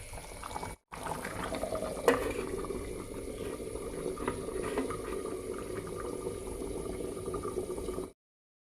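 Water for potato gravy boils in a pan, a quiet, steady bubbling and simmering that carries on evenly, close by, with a brief dropout near the start.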